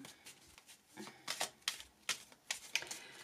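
Tarot cards handled and laid down over other cards, a series of soft papery flicks and slaps arriving in irregular bursts, close and quiet.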